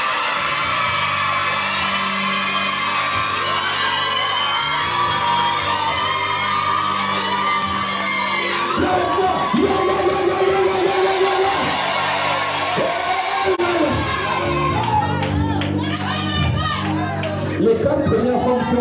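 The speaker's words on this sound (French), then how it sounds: "Les 4 premières femmes qui ont crié Amen." Women in a church congregation at a night prayer service shout and cry out together in loud, overlapping bursts of whoops and yells, with crowd noise and voices throughout the long stretch.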